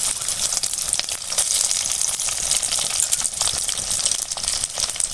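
Steady, crackling sizzle of onions frying in hot oil with mustard seeds, with bursts of popping and spattering throughout, close and fairly loud.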